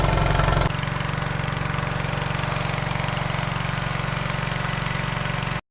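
A petrol motor pump runs steadily close by, pumping water through a short hose, its loud even engine drone holding throughout after a brief louder start.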